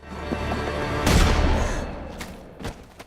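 A loud, close gunshot bursts out with a heavy boom, followed by a couple of smaller sharp cracks and rumbling echoes fading away.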